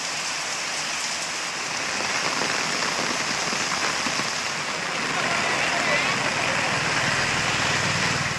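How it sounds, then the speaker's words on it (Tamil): Heavy rain pours steadily over Thanjavur district in Tamil Nadu after a light morning drizzle, a dense, continuous hiss of drops drumming on surfaces with a faint engine idling underneath. "லேசாக பொழிந்து வந்த மழை பிற்பகலில் கனமழையாக வலுப்பெற்றது."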